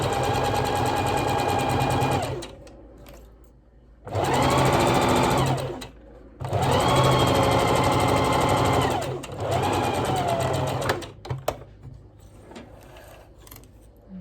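A sewing machine stitches a seam on a polka dot dress collar with bias binding, a loud steady whirring drone in three long runs separated by brief pauses for pivoting, followed by a few light clicks.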